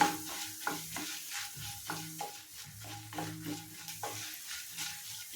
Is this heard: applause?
no